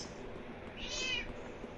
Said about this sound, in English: I heard it go meow.